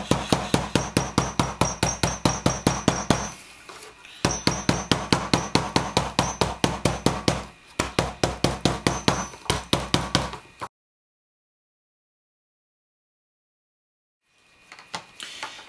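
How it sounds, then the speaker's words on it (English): A rubber hammer taps along the welt of a leather sheath for an F1-style bushcraft knife, firing off fast, even runs of sharp knocks in three bursts with short pauses, then silence and a few faint taps at the end. "if you've got one of these rubber hammers, just give the a tap"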